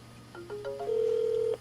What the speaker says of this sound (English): I'll just let it ring a few times.